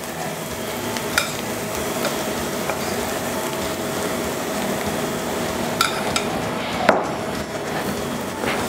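Machaca dried beef is sautéed in a skillet with onion and chile, making a steady, even sizzle broken by a few sharp utensil taps against the pan.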